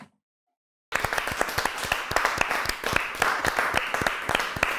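A small group claps steadily after a short silence, irregular sharp hand claps at moderate loudness continuing to the end, with no talk over it.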